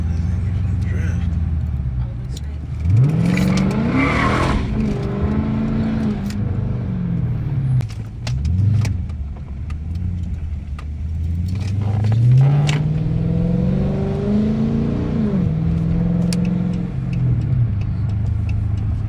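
A 2013 Dodge Charger at night rumbles loudly and revs repeatedly, its pitch climbing and falling through several drifting pulls while someone talks over the engine.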